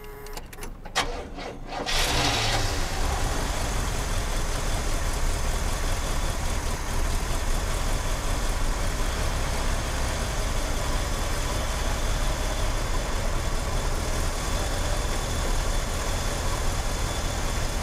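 A 1969 Cadillac Fleetwood engine cranks for a second or two, catches and settles into a loud, steady idle that runs uninterrupted to the end.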